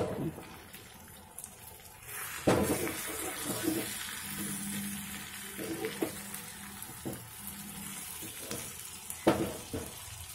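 Fish fry in hot oil in a pan, giving a steady close sizzle with intermittent scrapes and thumps as the pieces are turned, and a voice speaks faintly at times.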